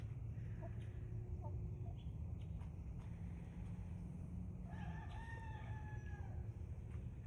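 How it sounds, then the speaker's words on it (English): Farmyard chickens and turkeys give a crowing call and scattered clucks, moderately near, over a constant low rumbling background. "And here's the chicken girls and the turkeys."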